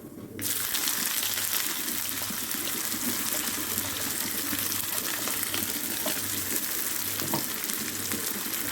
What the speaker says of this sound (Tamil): சீரகம் பொரியட்டும் வெங்காயம் போட்டுக்கலாம்